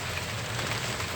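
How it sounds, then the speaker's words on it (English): Heavy rain falling steadily during a storm in Saudi Arabia, a dense, continuous hiss of downpour with no pauses, close and even throughout. "Now it's totally a rainstorm."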